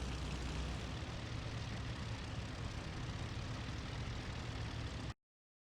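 A P-40 aircraft engine drones as a steady, dense broadband roar for about five seconds, then cuts off abruptly into silence.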